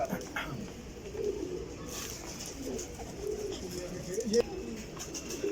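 Pigeons of a fancy king kabootar flock, kept on a rooftop loft, coo softly and steadily through the clip, close by and moderately loud, with a faint voice or two in the background.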